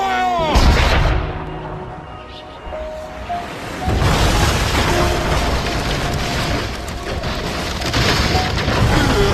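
Cannon fire booms in a film battle scene, with a loud blast near the start and further heavy, rumbling explosions that fill the rest of the clip, close and dense.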